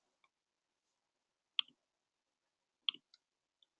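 Two crisp computer mouse clicks, close and isolated in near silence, about a second apart, followed by a few fainter ticks.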